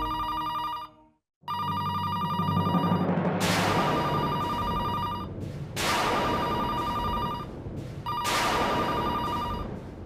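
Telephone bell ringing in a Hindi TV drama home scene, loud repeated electronic ring bursts separated by short pauses, alone without talk.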